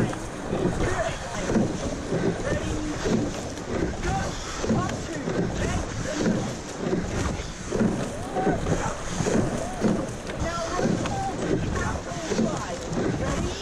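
Water sloshing and splashing with steady rhythmic strokes as a rowing crew rows a boat in a race, under continuous wind noise and faint voices.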